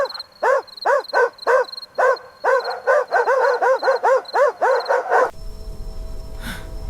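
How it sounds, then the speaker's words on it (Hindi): A dog barks rapidly and repeatedly, close and loud, with the barks coming faster toward the end before they stop abruptly. "कुत्तों की भौंकने की आवाज भी आ रही थी"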